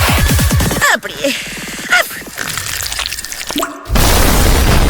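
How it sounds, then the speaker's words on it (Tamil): A Nutella-filled donut bursts with a sudden boom and a wet, splattering rush, loud and close, followed by dripping and a sustained noisy burst. "ஓ இல்ல, அது வெடித்து விட்டது."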